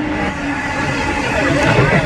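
A MEMU express train rolls into Gummidipoondi railway station, a steady low rumble of wheels and carriages close by, with a background murmur of voices on the platform and an abrupt drop at the end.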